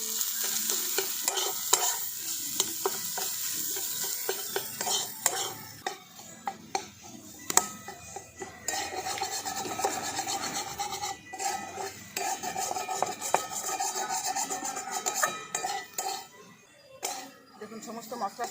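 Spiced potato filling being stirred and mixed with chopped green chillies in a hot pan, a steady close scraping and sizzling with frequent sharp clinks of a spoon against the metal pan, continuing throughout without speech.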